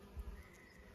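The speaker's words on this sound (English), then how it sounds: "there's bees, honeybees all over in the flowers in here" Honeybees buzz among blooming basil flowers in a late-summer garden, a faint low hum with a couple of brief louder swells as a bee passes close.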